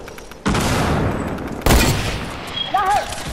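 A light machine gun fires in a video game, a loud sustained burst of rapid shots followed by a second sharp burst, with a faint voice at the end.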